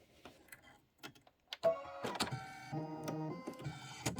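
An embroidery sewing machine stitches in fast, steady mechanical bursts with a repeated thumping, preceded by a few separate clicks and small knocks at close range.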